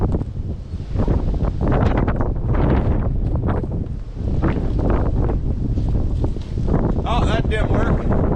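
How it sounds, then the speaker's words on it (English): Wind blowing snow across open ground in a ground blizzard near a John Deere, a loud continuous rushing gust noise buffeting the microphone, with a person speaking intermittently through it. "It's almost a ground blizzard right now."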